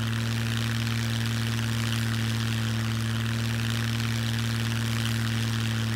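Propeller plane landing in the survival video game Scum, a steady droning engine hum with strong low tones that holds constant and loud throughout.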